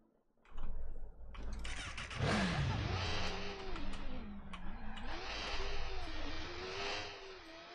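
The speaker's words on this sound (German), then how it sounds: "Motorrad." A motorcycle engine in the video game Watch Dogs starts and revs with a broad, rising and falling growl. The sound stays steady and close for several seconds, with light speech-like sound mixed in.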